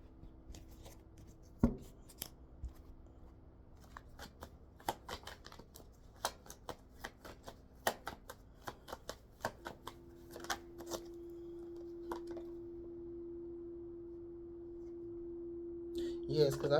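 A deck of tarot cards is shuffled close by, quiet repeated riffles and soft snapping taps over a faint steady hum. No one speaks.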